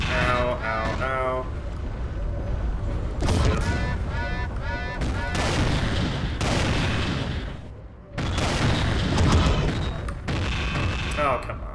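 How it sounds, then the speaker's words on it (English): Stationary defense turret firing on a player's mech in the Mechwarrior 3 video game, with heavy booming gunfire and explosive bursts repeating densely across the whole stretch, while someone talks over the action. "That's a turret right there. I don't know why it's not active, but it is a turret."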